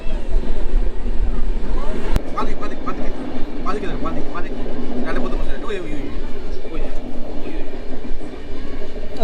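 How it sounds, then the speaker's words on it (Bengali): The Kanchan Kanya Express runs through forest toward New Mal Junction, a loud continuous rumble of rolling wagons with faint clicking, while people talk over it. "আমার New Mal junction first train journey হবে"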